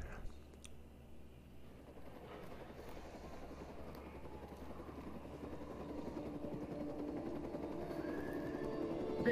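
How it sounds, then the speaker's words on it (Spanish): A helicopter in the video game Days Gone thrums steadily in the background, its rotor noise slowly building and growing louder over several seconds, with no talk over it. "No va a poder subir el helicóptero."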